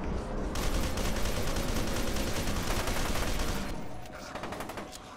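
Sustained rapid gunfire in F.E.A.R. 2, a loud, continuous automatic burst lasting several seconds before cutting off into quieter shots.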